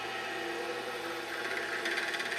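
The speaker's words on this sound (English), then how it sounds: "elongate that hole and with the mill and make it a slot" A milling machine takes small cutting bites to turn a hole into a slot in a knife guard clamped in the mill vise, giving a steady, close, continuous grinding whir with no pauses and no voices.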